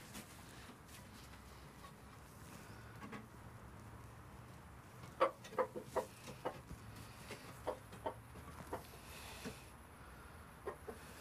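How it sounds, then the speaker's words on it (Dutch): Chickens being settled onto a roosting perch for the night cluck quietly, a soft, low background at first, then a short run of distinct clucks near the end of the clip, with no talking. "Kijk eens, kip."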